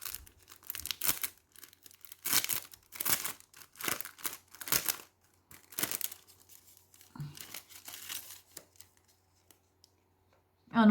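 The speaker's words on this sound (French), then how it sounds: "On va ouvrir." Plastic packaging holding stickers is torn and opened by hand, giving close, crinkly rips and rustles in short bursts with pauses between them.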